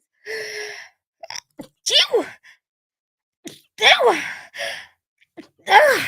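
A sharp sneeze bursts out between stretches of talking, followed by breathy exhales and more speech nearby.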